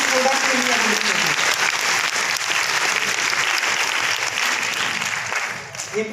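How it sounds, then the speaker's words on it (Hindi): An audience claps loudly and steadily at a DXN product launch event for a new tomato ketchup, the dense applause filling the whole stretch before thinning slightly at the end. "तो एक जोरदार तालियां उसके लिए होनी चाहिए, उस प्रोडक्ट के लिए होनी चाहिए।"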